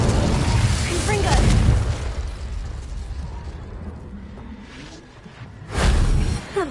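A Confringo blasting spell going off in a video game, with a deep rumbling boom that swells and decays, followed by a second burst near the end; a voice speaks briefly over it.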